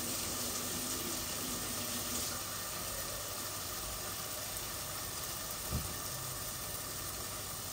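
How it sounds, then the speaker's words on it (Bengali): A small amount of water is poured into a cooking pot with fried spices and fish for a sour fish curry, a faint, continuous hiss running steadily throughout. "আমি এখন অল্প একটু পানি দিব এটার সাথে।"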